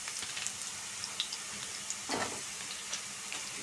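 Chopped onion sizzles quietly in a pan with spices, a soft steady frying hiss with a few light stirring clicks and scrapes, no voices over it.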